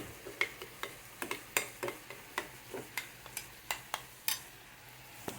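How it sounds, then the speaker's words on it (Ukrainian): A spoon stirs sour cream and tomato paste together in a bowl, making a quiet series of regular scraping and tapping clicks with no voice. "Сюди додаємо томатну пасту. Це змішуємо."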